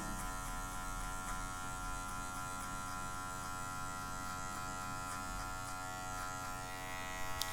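An electric hair clipper buzzes steadily and close with a bright, tonal hum as it cuts a fade haircut, holding an even drone throughout with small shifts near the end; no talking.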